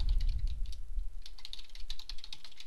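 Rapid clicking of keys on a computer keyboard as an email address and password are typed, close and moderately loud with no talking.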